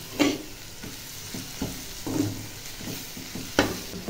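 Dried shrimp (chingri shutki) is sautéed with dried chilli powder in a pan, giving a steady sizzle broken by repeated scraping stirs at an irregular rhythm, close and moderately loud, with no talking.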